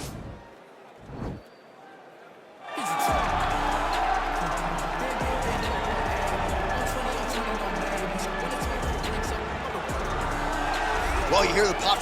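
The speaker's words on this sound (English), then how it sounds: "you hear the pop from the crowd, DC, as Nate Diaz gets set to make this walk" A quiet start gives way to a loud, sustained arena crowd roar as Nate Diaz walks out for a welterweight title fight against Nick Diaz in the UFC 4 video game.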